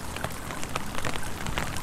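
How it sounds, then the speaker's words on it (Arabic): Steady rain patters in a dense, even hiss of droplets, close and continuous with no voices. "هذا قربه صوت المطر"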